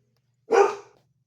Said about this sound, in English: my dogs are being loud. They're playing.